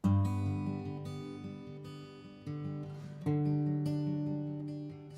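Acoustic guitar fingerpicked with a PMPI pattern, bass and treble notes ringing together in a steady rolling figure with a few chord changes, close and alone.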